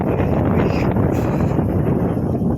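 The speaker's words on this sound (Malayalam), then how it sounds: "ഭയങ്കരമായി കാറ്റും വീശുന്നുണ്ട്" Strong wind at the misty hilltop viewpoint of Kattadikadavu in Vannappuram buffets the microphone in a steady, loud, unbroken roar with no other sound over it.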